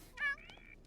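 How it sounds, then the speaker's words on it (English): A domestic cat gives a single faint meow at some distance, followed by a few soft trailing sounds in a quiet room. "I think I have a cat in real life meowing at me that I need to deal with for a second"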